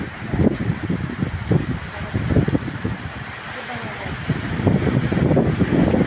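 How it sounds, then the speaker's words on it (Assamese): Strong wind blows hard and steadily, buffeting the microphone with loud rumbling gusts that swell toward the end. "এয়া পুৰা ডাঙৰকৈ বতাহ মাৰিছে।"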